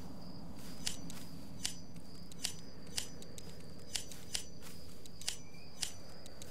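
Scissors snipping in the Grim Tales 6 hidden-object game: about eight sharp, crisp cuts at an irregular steady pace over a soft low hum, alone with no talk.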